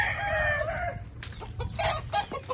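Roosters and hens kept in a makeshift enclosure cluck steadily, with a rooster's crow rising early, all close and fairly loud without voices.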